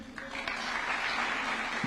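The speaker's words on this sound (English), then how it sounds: "Another round of applause for team captain Julius Yego." An audience at a flag handover ceremony for Team Kenya applauds team captain Julius Yego, a short spell of moderately loud clapping from a gathered crowd that holds steady throughout.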